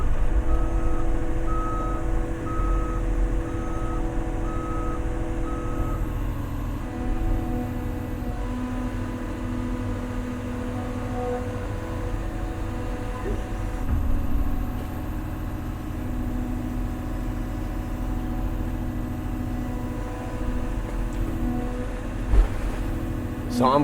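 A giant excavator drives across a pond being drained, its engine rumbling steadily while a reversing beeper chirps in a regular rhythm, with a louder clank near the end.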